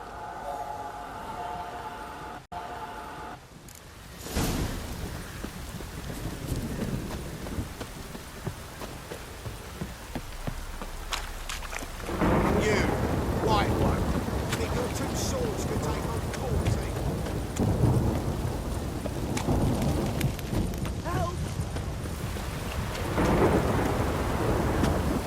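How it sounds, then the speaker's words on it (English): Heavy rain pours steadily in the video game The Witcher 3 while deep rumbles of thunder roll in, growing louder partway through, with occasional sharper cracks and scattered background sounds. "This downpour's a bastard, it is."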